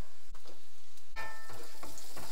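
Small onions (shallots) fry in oil with a little salt and turmeric, making a continuous close sizzle with light stirring movements and no voices.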